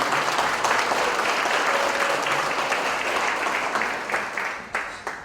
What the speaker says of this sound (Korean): 환영의 박수 한번 보내주시면 감사합니다.